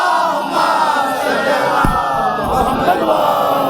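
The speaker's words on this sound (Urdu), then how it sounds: "ایک مل کے صلوات پڑھیے محمد آل محمد" A crowd at a religious majlis recites salawat in unison, a dense, loud wall of massed voices rising together with a brief sharp knock partway through.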